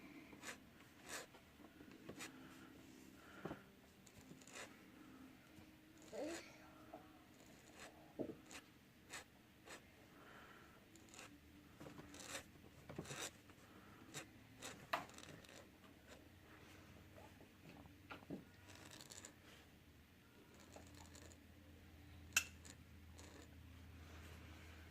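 A metal dip pen nib scratching across paper, dipped from an ink well, gives faint, intermittent scratchy strokes with small taps and pauses throughout, close and quiet, with no talking.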